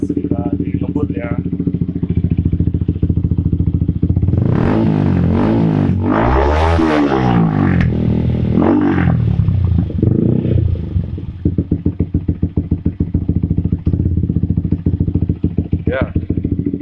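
Yamaha R15 V3 motorcycle with an Akrapovic aftermarket exhaust, ridden fast: a loud, deep engine roar rises and falls through several revving accelerations, then settles into a steadier rumble near the end, with no speech over it.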